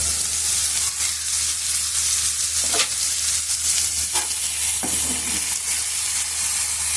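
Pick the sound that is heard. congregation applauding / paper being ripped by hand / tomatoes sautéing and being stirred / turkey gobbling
tomatoes sautéing and being stirred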